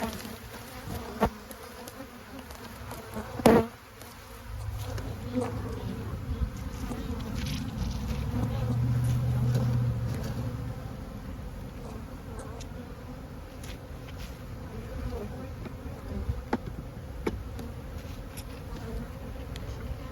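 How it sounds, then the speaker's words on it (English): Honey bees swarm an open beehive with lots of honey, making a continuous, close, low buzzing drone that swells slightly in the middle, with a brief knock early on and no talking. "So it looks like plenty of bees from the top."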